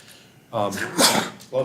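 A single short sneeze bursts out close by, with someone talking just before and after it.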